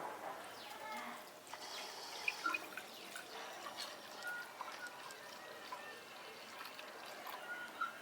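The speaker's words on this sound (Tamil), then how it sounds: "சல்லாடை வச்சு துணியை போட்டு வடிகட்டணும்." Soaked-wheat milk dripping and trickling through a cloth laid in a strainer, a faint, continuous patter of small drips close by with a few brighter splashes.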